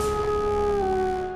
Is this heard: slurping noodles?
no